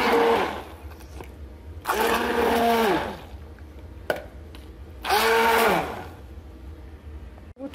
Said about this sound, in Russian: Вот у меня погружной блендер.